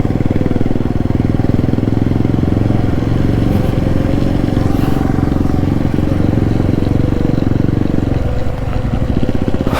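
A motorcycle rides zigzag along a slippery, muddy off-road mountain track toward Tawang, its engine a loud, steady, close chugging drone that holds for the whole stretch without pause.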